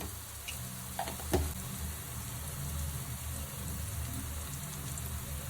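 Onion and tomato masala frying in a pan for a crab and prawn curry gives a steady, close sizzle throughout, with a couple of soft stirring knocks early on.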